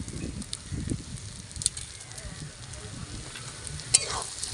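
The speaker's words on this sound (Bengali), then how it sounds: "এবার চিনি দিয়ে ভালো করে গায়ে মিশিয়ে নেব খুব কম আঁচে।" Banana flower curry with sugar added cooks on a very low flame, giving a soft, quiet sizzle with occasional spoon scrapes and light stirring knocks, close by and without talk.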